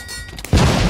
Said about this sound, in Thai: ระเบิดทีนึงครับ